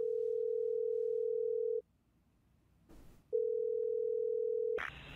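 A telephone dial tone hums steadily as a call to 911 is placed, breaks off for a short burst of static, then resumes before a sharper, higher beep cuts in at the end, with no voices.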